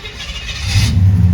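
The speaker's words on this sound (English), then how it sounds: "It sounds really good though with the exhaust that it has." A car fitted with a custom aftermarket exhaust rumbles loud and close, its deep engine note swelling and holding as it revs up.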